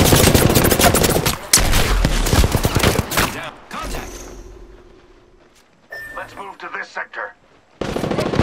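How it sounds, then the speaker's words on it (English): Rapid bursts of gunfire in the battle royale shooter Apex Legends, loud dense volleys for about three seconds, then scattered quieter game effects and a short pause before another loud burst near the end. "shooting."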